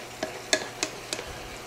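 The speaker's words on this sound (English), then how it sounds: "Give that a mix for about 30 seconds." Ground beef and seasoning are stirred in a sizzling pan, four rhythmic scraping strokes over a steady frying hiss, close by.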